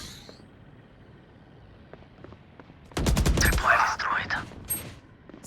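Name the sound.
gunfire in the video game Valorant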